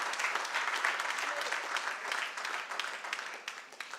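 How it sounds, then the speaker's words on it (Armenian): A church congregation applauds warmly at a Christmas service, dense sustained clapping that fills the room and slowly thins toward the end. "Եկեք շատ բարձր ծափահարենք մեր 60 եւ ավել տարիքի քույրերին եւ"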